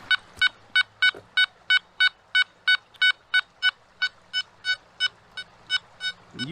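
A Nokta Gold Finder 2000 metal detector set to non-ferrous gold mode sounds a target tone. It comes as a rapid series of about twenty clipped, evenly spaced electronic beeps, close and clear over a faint low hum.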